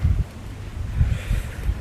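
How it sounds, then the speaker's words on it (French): Strong gusts of wind buffet an outdoor microphone, producing a steady low rumble with louder bursts near the start, around one second and near the end, with no talking. "J'espère que le vent n'a pas gêné la vidéo."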